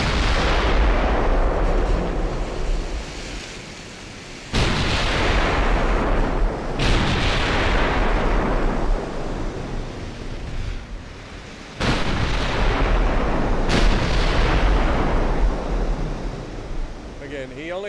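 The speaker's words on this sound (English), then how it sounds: "the heavy cruiser is officially shooting at us" Heavy cruiser gunfire in a naval warfare video game: deep, booming salvos strike at irregular intervals over a constant roaring wash of ocean and engine noise, loud and close throughout.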